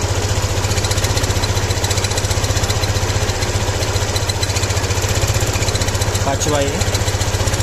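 A Suzuki Access 125 scooter engine idles steadily during carburetor tuning, a close, loud, even putter throughout, with someone speaking briefly over it.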